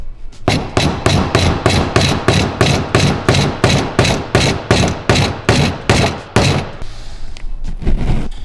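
Fast, even hammer taps strike a trim module on a BMW G80 to pry it loose, about two dozen loud close knocks in a rhythmic burst that pauses briefly before one more hit.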